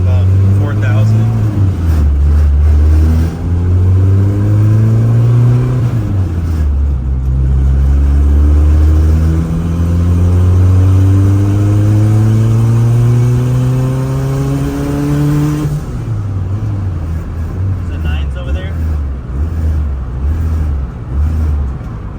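A turbocharged Honda F20b engine pulls hard at full throttle in 4th gear from about 4,000 rpm, its loud droning note climbing steadily in pitch, then dropping on the lift-off and rising again, heard from inside the car.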